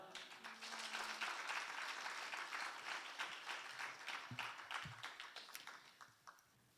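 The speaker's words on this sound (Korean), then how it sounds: "할렐루야로 우리 두 손 들고 환영하고 박수하겠습니다" A church congregation at a Friday evening service applauds in welcome of a missionary, a sustained crowd clapping that holds steady for several seconds and then thins and fades out at the end.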